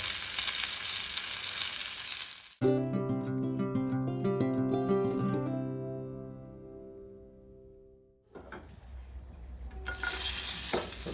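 Saundale fish fry in a pan with a bright, crackling sizzle at the start and again at the end, while a melodic musical passage fills the middle.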